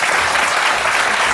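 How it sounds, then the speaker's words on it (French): A brief burst of studio audience applause on a French television show, dense, loud, close clapping from a crowd that fills the whole short moment. "On peut même faire applaudir cette phrase si tu le souhaites"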